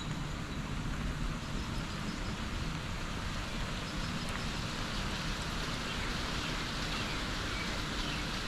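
Steady rain falls on a new concrete driveway outdoors, a continuous broadband hiss that runs evenly throughout with no talk.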